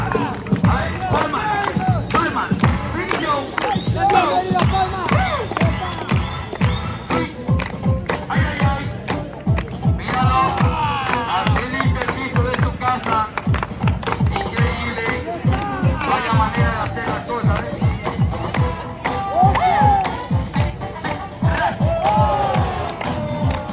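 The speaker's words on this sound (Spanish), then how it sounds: "el aplauso para Mini Joe" Crowd applause and cheering for Mini Joe at a Spanish nightlife show, loud and continuous with rhythmic clapping and a heavy pulsing beat underneath, voices shouting amid the noise.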